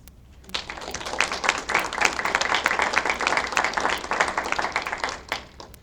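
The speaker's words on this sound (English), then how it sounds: "Please join me in applauding the efforts of these leaders." An audience applauds workshop leaders at a conference, steady broadband clapping building quickly after a brief pause and holding loud and dense for several seconds before thinning at the end.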